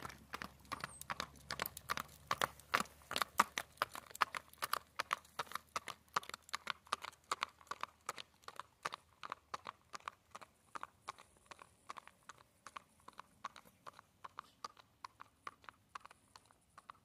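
Registered Tennessee Walking Horse gelding gaiting, a fast, even run of crisp hoofbeats clip-clopping close by, steady in rhythm for the whole stretch with no talk over it.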